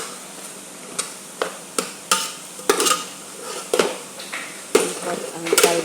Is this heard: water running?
no